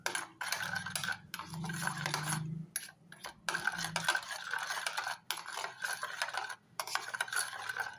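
A spoon stirs a milk, yeast and sugar mixture in a bowl, giving quiet, rhythmic scraping clinks with short pauses and no voices.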